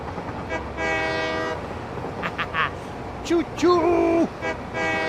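A train in a video game sounds its horn in several short toots among rumbling rail noise, over a steady background bed. A voice also calls out an imitation of the train.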